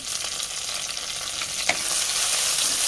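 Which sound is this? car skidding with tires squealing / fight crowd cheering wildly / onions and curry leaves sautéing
onions and curry leaves sautéing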